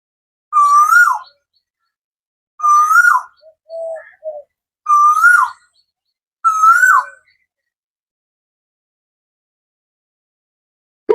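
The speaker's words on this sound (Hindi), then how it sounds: "फिर देखिए कोयल की आवाज कूकू करती हुई।" Koel bird calling from a peaceful ascetic retreat by a prasad cooking hearth, four clear whistled phrases spaced about two seconds apart with a softer low note between, near and alone without talk.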